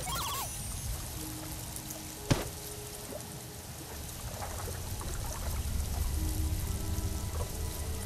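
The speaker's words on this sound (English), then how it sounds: "this sounds like water" Steady rushing, pouring water echoes through the sewers of the Fallout: New Vegas video game, a continuous broad wash with one sharp thud partway through and no talking.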